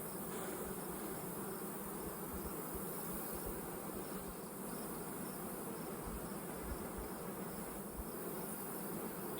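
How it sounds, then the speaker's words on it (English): Honey bees swarm over an open hive in a dense, continuous buzzing drone, steady and unbroken throughout with no voices, the many wingbeats blending into one close, moderately quiet hum. "Gobs of bees."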